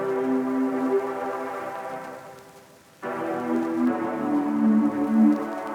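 Layered Serum synth patch built from a pitched-up Juno wave with unison and LFO-driven detune, a sustained chord-like pad that thins out briefly before swelling back in at full level, with no voices.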